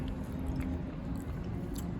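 Someone chews a crunchy hand-breaded chicken sandwich with crisp bacon and ranch, close and steady, with dense wet crunching and biting throughout and no talk.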